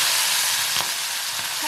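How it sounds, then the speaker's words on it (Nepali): Chickpeas fry in oil for Nepali chatpate, giving a loud, dense, continuous sizzle with faint stirring knocks beneath it. "चना पुरै फ्राई भइरहेछ चटपटको लागि।"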